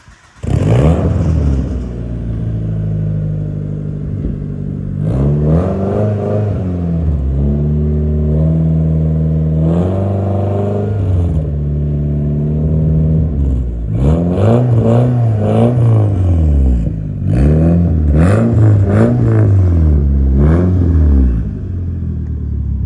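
Eclipse GSX car with a new turbo-back exhaust drives past close and loud, its engine rising and falling through repeated revving gear pulls with shifts between them, no talk over it.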